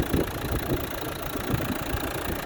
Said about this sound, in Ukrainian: Моторчик робить ідеально з ним.